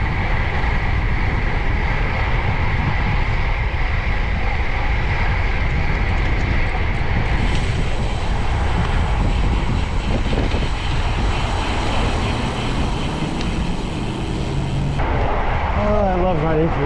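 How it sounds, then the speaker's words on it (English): Heavy crosswind buffets a rider on a Tarmac SL7 Sport road bike in a bike lane, a steady loud roar of wind noise across the mic throughout, with a voice speaking over it near the end. "we got ourselves a bike lane, boys, and a heavy crosswind"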